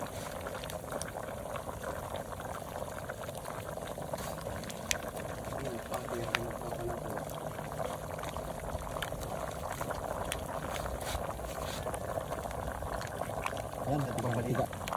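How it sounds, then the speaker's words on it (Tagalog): Tomato sauce is added to simmering kaldereta, a steady close bubbling boil with a soft pouring wash running evenly throughout. "At isusunod na rin natin yung tomato sauce."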